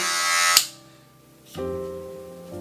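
Wahl Magic Clip cordless hair clippers buzz steadily with a low hum, cut off briefly by a click, then switched back on to run again close by.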